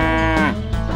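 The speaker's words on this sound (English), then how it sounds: "The cow crept closer to the flower garden." A cow gives a single loud, close moo, a deep drawn-out bellow that bends downward and then breaks off.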